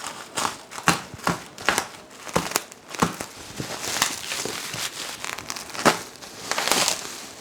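Packaging for a Realme 32-inch smart TV crinkles and rustles up close during unboxing, with irregular crackling handling noises throughout.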